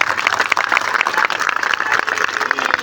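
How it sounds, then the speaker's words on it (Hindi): An audience at a Chhattisgarh political speech honouring an honest village sarpanch breaks into loud, dense, steady applause, many hands clapping together without a pause. "ताली कमजोर है, जरा जोरदार ताली होना चाहिए"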